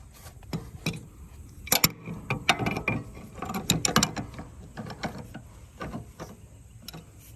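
A hand tool works the belt tensioner on a Wright Stander Intensity mower, giving a run of metallic ratcheting clicks and clanks in uneven bursts, close and fairly clear.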